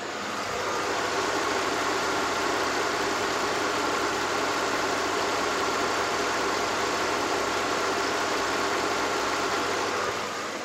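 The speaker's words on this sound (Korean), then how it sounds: "바로 엔진음 들려드리도록 하겠습니다" A Mercedes V6 car engine idles steadily with a low, even hum and faint mechanical vibration, continuous and unchanging throughout, with no voices.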